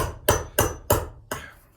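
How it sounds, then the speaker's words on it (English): A hammer's larger face strikes a metal vessel during chasing, with a wad of leather cushioning it underneath: four loud, close, ringing blows at a steady, roughly even pace, each decaying before the next. "And I hammer pretty hard."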